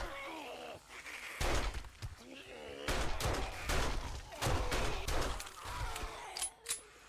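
Gunshots in 7 Days to Die video game, a series of loud, sharp cracks fired in an irregular rhythm, several shots in quick succession with brief pauses between them.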